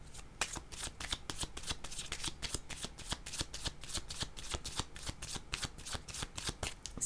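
Tarot cards being shuffled in a steady, rapid riffling rhythm of sharp papery flicks, close and fairly loud, continuing without pause and with no talking.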